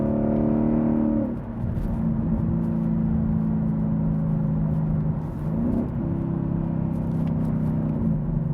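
A 2015-2023 Mustang GT with a resonator-delete X-pipe exhaust revs loudly and close by, steady rumbling engine tone punctuated by a few sharp throttle blips and drops, with no talk.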